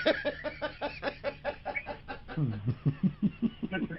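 A rooster clucking sound effect from a radio prank jingle gives a quick run of rhythmic, chuckling clucks, with a brief pause partway through before they resume.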